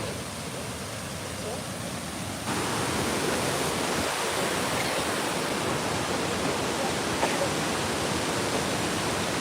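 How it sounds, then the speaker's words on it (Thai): Kuang Si waterfall near Luang Prabang, Laos roars as a steady, loud wash of falling water, swelling slightly after a couple of seconds and holding constant to the end. "นี่คือน้ำตกกวางซี หลวงพระบางเด้อแม่เด้อหลวงพระบาง"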